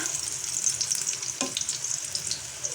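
Skinless longganisa sausage sizzles and fries in a pan, a steady close crackle with occasional stirring scrapes, no voices.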